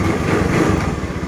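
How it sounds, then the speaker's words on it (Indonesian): A motorcycle, long unused, idles loudly up close while its engine warms up, a steady rumbling putter throughout. "Oke, panaskan mesin dulu"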